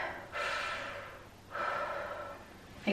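Two deliberate, audible breaths during a singer's vocal warm-up, each a sharp airy intake that tapers off, spaced about a second apart and heard close with no talking.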